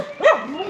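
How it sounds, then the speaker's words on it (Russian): A single short bark from a dog on a hiking trail along the Amalfi Coast, close and fairly loud, with no talk over it. "А я тебя похвалила, а ты гавкаешь"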